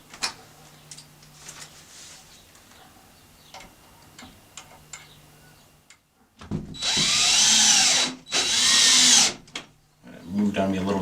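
Power drill boring pilot holes in a hinge for a DIY Jeep JK door mounting bracket, two loud close whining bursts in quick succession after a stretch of quiet handling noise and talk.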